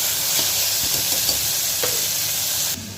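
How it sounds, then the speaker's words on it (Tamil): Onions sautéing in oil in a pan for a home-style lunch, a constant loud close sizzle and hiss with occasional faint stirring scrapes, cutting off near the end. "வெங்காயம் சேர்த்து நல்லா வதக்கி விட்டுக்கலாம்"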